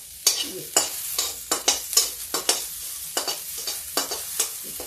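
Chopped onion frying in a pan for vegetable khichdi, with repeated stirring strokes giving bursts of sizzle. The scrapes come at irregular intervals over a steady low frying hiss, close and moderately loud, with no talk.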